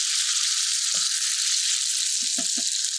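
A hash patty hitting a smoking hot pan: steady, bright, loud sizzling throughout, with a few faint low knocks and scrapes from the pan underneath, no talking.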